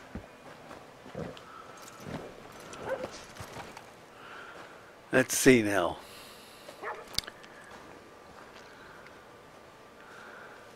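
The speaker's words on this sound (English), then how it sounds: "It's a dog." Dog in Red Dead Redemption II giving a few short barks and snorts midway, mixed with footsteps and scattered game noise, while someone talks briefly over it.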